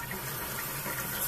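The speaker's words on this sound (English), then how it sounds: "as I turn the water on, of course, the water will run through the box." Tap water runs through a hose into a plain metal enclosure, a steady close rushing flow that holds level for the whole moment with no talk over it.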